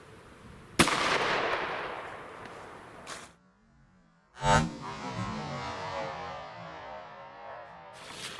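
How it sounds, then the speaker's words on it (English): A 9mm pistol fires into ballistic gel covered with t-shirt material. Sharp, fairly faint reports ring out, one of them loud with a trailing decay, followed by softer rumbling noise between the cracks. "we'll shoot it again with the exact same gun, exact same round"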